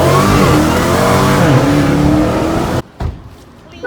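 The 392 Hemi engine of a 2015 Jeep SRT all-wheel drive revs loud and close, rising and holding, then cuts off abruptly and leaves brief quieter engine rumble.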